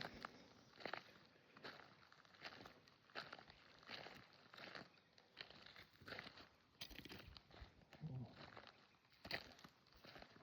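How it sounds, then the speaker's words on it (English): Footsteps crunch steadily across open, unfenced cattle country, a quiet regular walking rhythm of soft scuffs close to the listener. "I wish you couldn't hear my footsteps"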